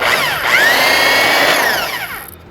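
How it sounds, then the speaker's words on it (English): Power drill boring a hole through a recycled tin can, a loud whining motor that rises in pitch as it bites, holds steady, then winds down over a couple of seconds. "I'll drill a hole,"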